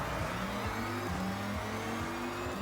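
Ford GT '05 engine in the racing game Forza Horizon, a steady loud drone with rising pitch and stepped gear changes as the car accelerates along a straight track.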